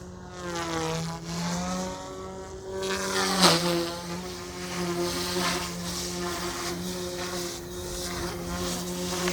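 Rotor of an OMPHOBBY M2 EVO MK2 RC helicopter spinning at high head speed, a steady tonal whine that holds throughout and rises slightly in pitch, close and loud and heard on its own.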